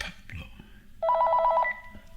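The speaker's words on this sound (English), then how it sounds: "Oh yeah, the phone's ringing." A telephone rings with one rapid warbling electronic trill burst, loud and near, with speech-like sounds before and after it.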